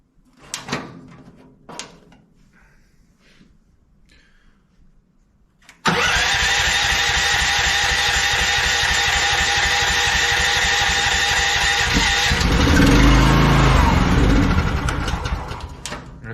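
A 13.5 HP Briggs & Stratton LCT engine on a crawler mini excavator gives a few clunks, then cranks and fires into a loud, steady running roar that swells in its last seconds, with no speech.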